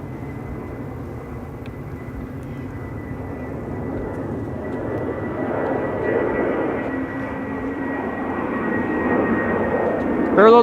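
A jet airliner departs Amsterdam Schiphol Airport on a parallel departures morning, its broad engine roar building steadily from moderate to louder over the stretch, with someone talking over it.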